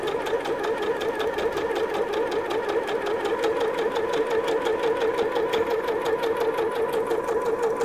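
A sewing machine fitted with a pintuck foot stitches pintucks in a steady, fast, even mechanical whir with a regular needle rhythm, running close and unbroken throughout with no voices.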